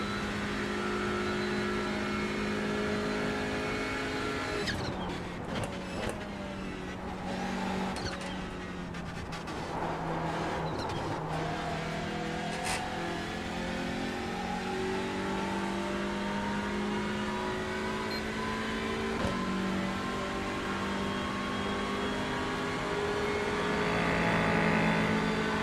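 Race cars at Daytona during the Roar Before the 24 drone and rev continuously, engines rising and falling in pitch as cars pass, a sustained loud roar from moderate distance.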